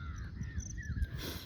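Crows caw harshly in a quiet natural outdoor setting, a short burst of rough calls heard at moderate distance over faint background ambience.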